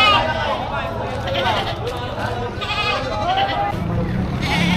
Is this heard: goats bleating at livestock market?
yes